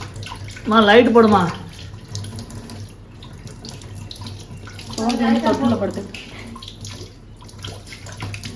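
A child plays with water running from a tap at home, the splashing flow continuing steadily underneath while people speak in two short bursts.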